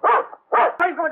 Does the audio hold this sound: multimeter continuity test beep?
no